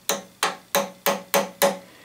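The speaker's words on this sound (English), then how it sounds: "Using my Vaughan hammer." Six sharp metallic strikes of a Vaughan hammer driving a steel pin into a drill press feed handle, in a steady rhythm, each ringing briefly before the next blow, close and fairly loud.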